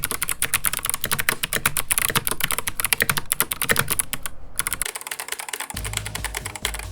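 Fast, continuous typing on a Keychron C2 keyboard fitted with jade and navy tactile switches, dense clicky keystrokes close up, with a brief pause near the end before lighter keypresses resume.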